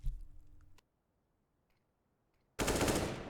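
Gunfire cuts through a wall in Counter-Strike on Dust 2: a short burst of loud shots, a near-silent pause, then a second dense burst of rapid automatic fire.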